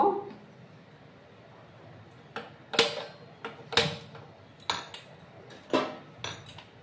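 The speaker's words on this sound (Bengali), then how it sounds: "একটা প্যান আমি বসিয়ে দিলাম।" A metal pan is set onto a gas stove in a home kitchen, making several close metallic clanks and clinks at uneven intervals against a quiet background.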